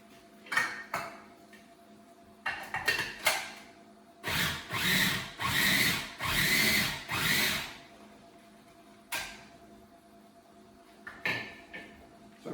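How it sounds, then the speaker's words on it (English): A mini food processor pureeing vegetables, running in short bursts: several brief pulses, then a longer sustained whirring stretch of a few seconds, followed by a couple more quick pulses, close and fairly loud. "I've got a mini food processor over here. I'm going to dump these in because I want to kind of puree them up."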